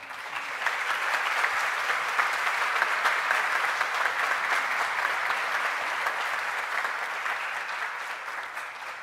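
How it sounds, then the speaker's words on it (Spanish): Steady, dense applause from a seated audience at the opening of a national forum on human trafficking, just after an agreement is signed, a sustained wash of clapping that stays even and moderately loud for about nine seconds. "Un aplauso, por favor."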